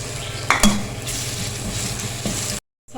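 Chopped ginger and garlic sizzle with onions in a frying pan, a steady crackle with a couple of spoon clinks and stirring scrapes before the sound cuts out.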